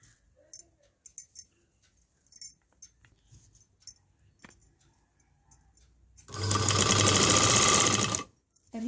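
Simple sewing machine stitching a fall onto a saree: after a few faint clicks and handling noises, it runs in one loud, continuous, buzzing burst of about two seconds, then stops.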